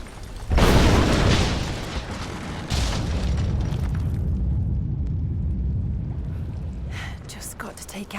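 A Greek fire vessel bursts in Rise of the Tomb Raider, a loud booming explosion followed by a long, sustained roaring rumble that slowly settles, with faint crackles and a few later bangs.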